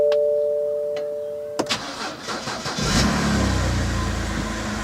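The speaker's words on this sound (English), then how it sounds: "we need to get the engine fired up" A BMW car engine cranks briefly with a sharp mechanical clatter, then catches and settles into a steady, close idle rumble.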